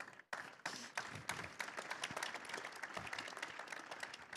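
An audience applauds a speaker at a conference on Europe's zero-carbon mobility transition. The clapping is dense and steady, starts suddenly after a short pause, and sounds moderately distant.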